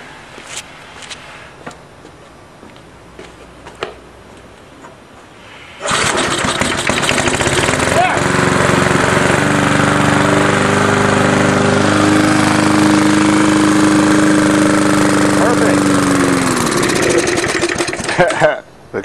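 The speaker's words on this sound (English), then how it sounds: "Now the fact that it started and died just means I have to open the mixture" Old points-ignition Briggs & Stratton lawn mower engine with an unadjusted carburetor: a few faint knocks and handling sounds, then the engine catches abruptly and runs loud and steady with a whining tone before sputtering off near the end.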